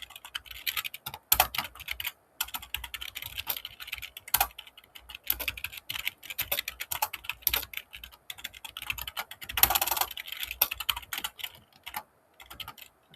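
Code is typed at a computer keyboard in quick, uneven bursts of close, crisp keystrokes, with short pauses between runs and a denser flurry partway through, and no voices.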